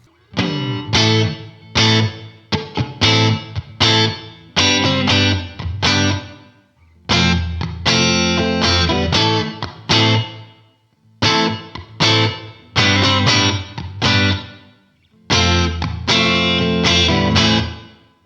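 An electric guitar played through a Line 6 POD Go room reverb block at 50% mix and 5.5 decay rings out in repeated strummed and picked phrases, each separated by short pauses while the reverb tails fade.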